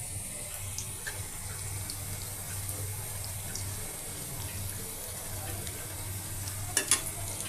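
Onion fritters (piyaju) frying in hot oil, a steady soft sizzle with a low background hum and a couple of sharper clinks near the end, no talk.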